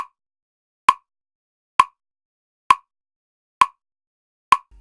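Five sharp, identical cracks spaced evenly about a second apart, each decaying quickly into silence, like distant rifle shots; long-distance sniper shots in Fortnite, with nothing else audible between them.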